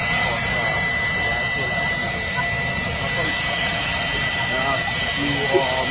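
A big jet's engine roars steadily at Roberts International Airport, a broad continuous rush with a high whine on top, heard close and loud under a reporter talking.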